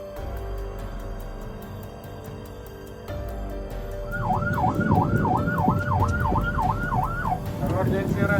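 An ambulance siren wails in rapid, regular rising-falling sweeps close by during a roadside standoff with a private car, over traffic rumble and a horn-like drone.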